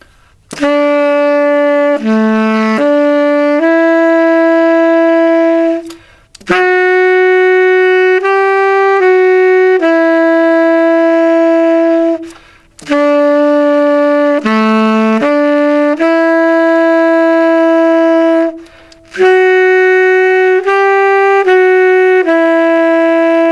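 A solo saxophone plays a steady melody of sustained notes in four phrases separated by short breaths, loud and close with no voices.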